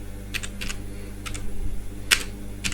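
Code being typed on a computer keyboard, scattered close clicks in small bursts with a louder cluster near the end, over a quiet steady hum.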